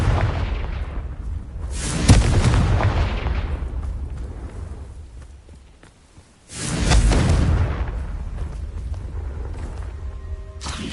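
Two heavy booming blasts from the Confringo fire spell in Hogwarts Legacy, each a loud burst that rolls off into a long fading rumble, with a quieter stretch between them.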